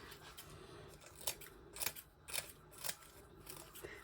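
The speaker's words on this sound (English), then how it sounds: "I'm going to chop it into little bits, I think. Let's get some scissors." Several sharp scissor snips cutting leaf litter for an isopod habitat, in an irregular rhythm, close and crisp against a quiet background.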